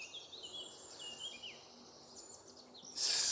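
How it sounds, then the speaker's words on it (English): Birds sing and chirp in a calm forest at sunrise, several thin high calls overlapping at a moderate distance over quiet insect hum, before a short louder burst of noise at the end. "Listen to the birds."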